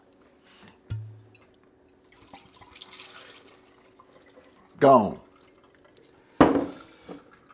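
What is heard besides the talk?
Grey Goose vodka being poured out of the bottle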